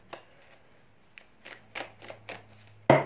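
A deck of oracle cards is shuffled by hand, a string of short papery riffles and taps at an uneven pace, fairly close, ending in a louder burst.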